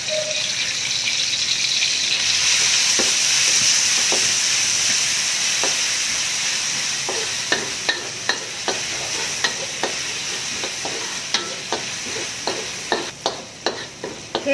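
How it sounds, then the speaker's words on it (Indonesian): Shallots and pounded garlic sizzle loudly in hot oil in a pan, a steady close frying hiss, with quick spatula scrapes and taps against the pan becoming frequent toward the end. "kita tumis dulu bawang merah,"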